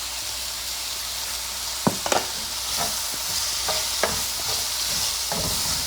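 Bell peppers fry in a pan with a steady, bright sizzle throughout, broken by a handful of sharp scraping clacks as a utensil stirs them, close and fairly loud with no talking.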